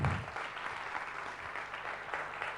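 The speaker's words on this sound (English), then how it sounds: "Can you please give all four of our speakers a big round of applause?" Audience applause for four speakers at a session, a continuous dense patter of clapping heard from a moderate distance, steady throughout without talk.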